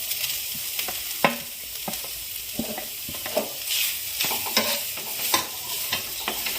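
Minced soya chunks stir-fried in a pan for momo filling, a steady close sizzle broken by repeated scraping clacks of a spatula against the pan.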